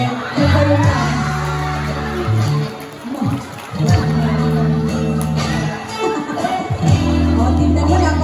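Party crowd at an 18th birthday celebration cheering, whooping and shouting in loud bursts over thumping music, with the excitement swelling and fading several times.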